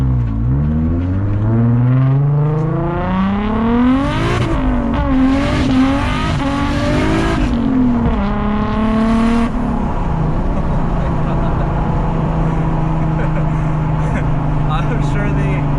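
A Toyota JZX100 Chaser's engine revs hard under turbo boost, with a rising, sweeping engine note that climbs and falls several times, loud and steady from inside the car, then settles into a lower drone.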